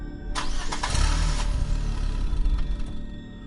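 A car engine cranks and catches, then settles into a steady rumbling idle, close and loud with no voices.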